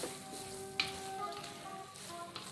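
Mie tek-tek noodles sizzle quietly in a pan while being stirred, a soft steady frying hiss with a faint scrape of the utensil near the start.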